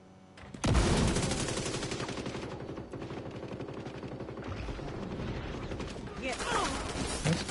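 A gun in The Division 2's Descent mode fires a long run of loud, close shots at a steady, measured pace, starting abruptly just after the opening and continuing to the end over a dense wash of in-game combat noise.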